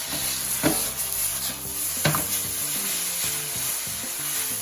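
Garlic and ginger stir-frying in a pan for a chicken and vegetable stir fry, a constant close sizzle broken by a few sharp utensil knocks and scrapes as the pan is stirred.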